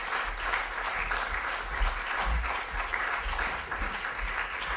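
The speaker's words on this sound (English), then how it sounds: "I will ask you to give her a warm applause" Warm applause from a concert audience at the French Institute welcomes cellist Sonia Wieder-Atherton on stage, an even, steady wash of clapping from a seated crowd with no talking.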